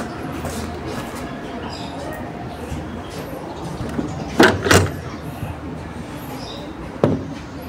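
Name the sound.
door being opened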